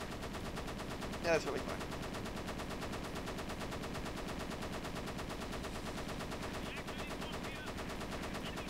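Rapid machine-gun fire from a fighter plane in the aerial combat game Flying Tigers: Shadows Over China, during a raid on Rangoon. It sounds as a steady, dense rattle over engine drone for the whole stretch, with a brief voice speaking near the start.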